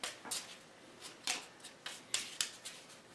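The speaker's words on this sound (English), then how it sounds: "Put them back in my deck. And shuffle." A deck of Lightseekers cards is shuffled by hand, giving a quick series of about eight crisp, close riffling snaps at an uneven rhythm.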